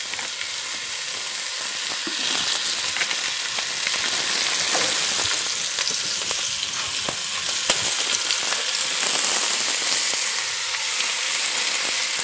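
Osso buco searing in olive oil inside a cast-iron pot, a loud, dense, unbroken crackling sizzle lasting the whole stretch, close up and without any speech.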